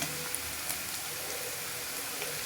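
Ginger garlic paste frying in oil for tomato rice, a faint steady sizzle with soft crackle throughout, a few light clicks of a spoon, no talking.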